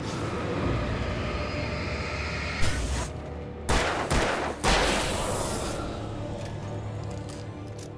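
A handgun firing in the video game Alan Wake Remastered: a few sharp, loud shots spaced apart over a low rumbling game ambience.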